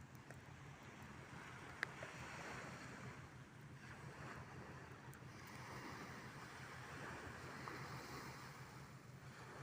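Continuous rushing sea waves at a seaport in Batangas, with wind buffeting the microphone, a steady low roar throughout.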